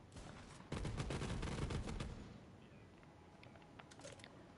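Explosive rounds fire in a rapid burst from a video-game weapon that launches Torgue-style explosive fireworks, giving a loud crackling fusillade for about a second, then smaller pops and scattered blasts trailing off.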